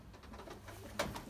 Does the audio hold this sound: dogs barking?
no